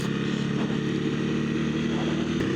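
Motorcycle riding along a road on Chiloé Island, a steady close engine drone that holds constant with a faint voice mixed in.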